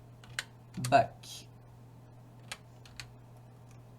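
Typing on a computer keyboard while building a custom costume in Scratch: a few sparse, light key clicks spread over several seconds, with a short spoken word and a steady low hum underneath.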